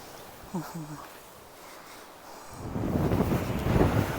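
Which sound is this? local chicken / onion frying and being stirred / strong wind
strong wind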